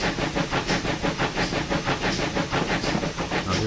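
A steam train chuffs uphill in a loud, close, regular beat of hissing exhaust puffs, roughly three to four per second, with no voices.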